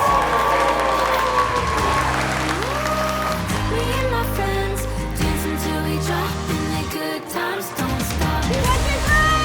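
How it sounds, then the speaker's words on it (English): Wedding guests clap and cheer loudly at a ceremony at Clevedon Hall, a dense, sustained wash of applause and shouts that continues steadily throughout. "We're going to clap and cheer"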